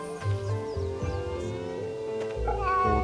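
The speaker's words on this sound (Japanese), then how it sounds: "猫" A cat meows in the Fate/Samurai Remnant video game: several short, close meows over soft game music.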